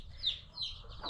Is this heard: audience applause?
no